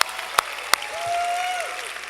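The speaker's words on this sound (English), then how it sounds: "Let's give them a round of applause" Audience applause at the PAX West 2024 Gearbox main theater show, a brief steady patter of clapping from a crowd with a few sharp louder claps and a passing tone.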